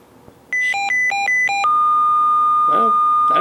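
A Uniden BCD436HP scanner sounds a tone-out test: a quick alternating sequence of sharp two-note electronic beeps, then one long steady tone held to the end, loud and clear with faint voices underneath.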